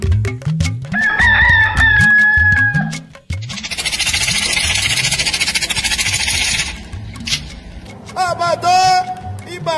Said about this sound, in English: Every morning as the cock crows